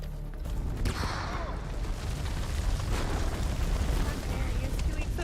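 Grenade explosion in a video game, a sharp burst followed by a long rumbling roar that fades slowly under continuing battle noise, with a voice speaking partway through.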